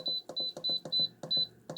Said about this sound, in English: And now we're going to turn it on to pressure cook and high.